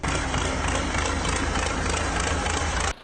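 A tractor engine runs while reversing to attach a trailer, a loud, steady low rumble with broadband noise that holds evenly and then cuts off abruptly near the end.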